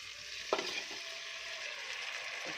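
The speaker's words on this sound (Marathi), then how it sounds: "आता आपण डाळ आणि तांदूळ ॲड करूया." Dal and rice are tipped into a hot, sizzling tempering for potato dal khichdi and stirred. There is a steady close sizzle, with a brief scrape of the spoon near the start.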